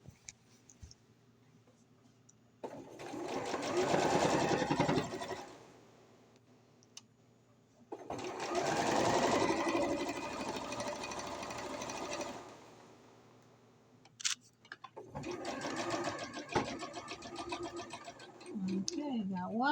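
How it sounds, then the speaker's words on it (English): Home sewing machine stitching a fabric pillowcase, running in three steady whirring bursts of a few seconds each, with short quiet pauses between them, close by. "I'm sewing so crazy."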